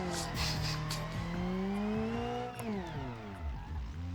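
A rear-wheel drive Ibishu Pessima drifts in the BeamNG video game: its engine revs and tires squeal continuously, with the pitch rising, then dropping sharply before climbing again, all loud and close.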